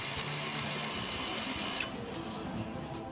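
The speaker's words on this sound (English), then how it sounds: "The parking brake motors will now operate." Electro-mechanical rear parking brake motors on a car, commanded through diagnostic basic settings, whir steadily up close for about two seconds before the pitch drops into a lighter, continuing mechanical hum.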